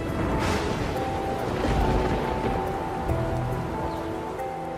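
Heavy rain pours down steadily at a cenote in the Maya lowlands, a dense loud hiss of drops on leaves and ground with no voices.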